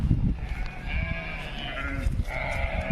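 Sheep bleat repeatedly close by, several wavering calls overlapping one another above scuffling and low rustling noise, with no talk over them.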